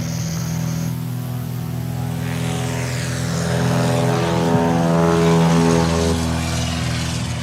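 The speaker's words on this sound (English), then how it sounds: "That is a Murphy Super Rebel" A Murphy Super Rebel propeller plane at a STOL competition drones steadily nearby, its engine tone rising and swelling in loudness as it passes, with no voices.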